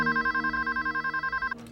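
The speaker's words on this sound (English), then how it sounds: "the phones began ringing off the hook in the police station at Yorktown." Telephones ring at a police station in Yorktown, a steady rapid electronic bell trill pulsing in quick even bursts, loud and close, cutting off abruptly near the end.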